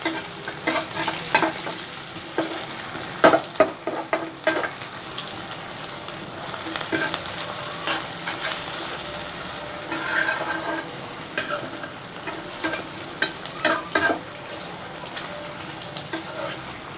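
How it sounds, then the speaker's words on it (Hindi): Tomatoes being stirred and fried in a pan for dal mash masala, a steady sizzle with repeated scraping stir strokes throughout, fairly close and moderately loud. "अब इन टमाटरों को अच्छी तरह भूनेंगे ताकि ये मेल्ट हो जाएं"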